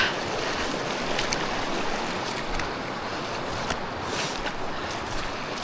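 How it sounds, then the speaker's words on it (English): Strong river current rushing around a person wading across on the old road to Sarajevo in the Balkans: a loud, steady broadband wash of water, continuous and close, with no voices. "The current's quite strong here."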